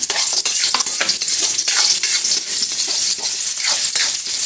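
Aromatics sauté in a pan for crab cooked in coconut milk with squash, a loud close sizzle with rapid, repeated stirring scrapes and spatula clicks against the pan, no voices.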